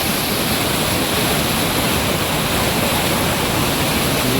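Durga Falls near Karkala sends out a loud, steady roar of rushing water that fills the whole clip as dense, unbroken noise, close by and with no voices.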